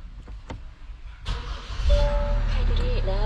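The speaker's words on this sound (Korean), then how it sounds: "제가 한번 시동 켜보도록 하겠습니다" A diesel car engine cranks and catches, then settles into a steady, low idling rumble, close by, with a faint tonal chime above it.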